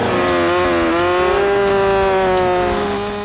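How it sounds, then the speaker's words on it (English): A chainsaw roars loudly and steadily, its engine pitch rising slightly as it bites in, then easing off at the end. "I like being creative with a chainsaw and with big pieces of wood."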